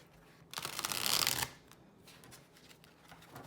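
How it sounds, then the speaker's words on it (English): A deck of Chakra Wisdom Tarot cards is riffled once, a crisp papery burst lasting about a second, followed by softer handling and card taps close by. "Let's see how these shuffle."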